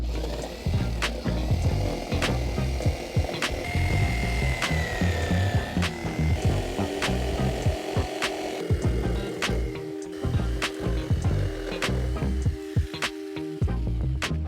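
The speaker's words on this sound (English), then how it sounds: "Now it's time to go in with a jigsaw." A jigsaw cuts along marked lines through wood from a drilled pilot hole, making a loud, fast buzzing rattle with sharp knocks and clatter as the blade chatters, running almost continuously with short pauses and no talking.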